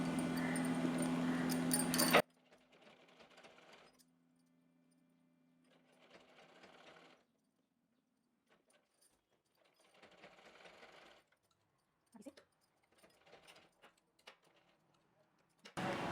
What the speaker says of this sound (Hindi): अब हम यहाँ पे सिलाई लगा देंगे।